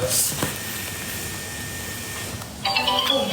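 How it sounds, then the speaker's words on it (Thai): A mobile phone ringtone for an incoming call comes in near the end as a loud, steady melodic tone, following a stretch of quiet room noise. "โทรศัพท์มา รับโทรศัพท์เร็ว"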